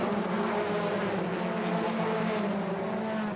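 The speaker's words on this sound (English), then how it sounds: "As the leaders closed up on one another, Jordan pinched third from Morgan at the end" BTCC touring race cars lapping Donington Park during a 2015 race, a steady loud roar of engines with a sustained drone and no clear pass-by peaks or gaps.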